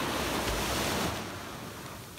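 Surf washing onto a Sanibel Island beach at sunset, a steady broad rush of waves with light wind noise that eases slightly toward the end.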